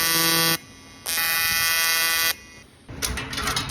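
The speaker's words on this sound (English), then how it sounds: "Then we're going to tack the new piece into position, make sure everything's level." Tack welding a new picket onto a damaged aluminum gate produces loud, steady electric buzzing in two long bursts with brief pauses, followed by a rougher, crackling stretch.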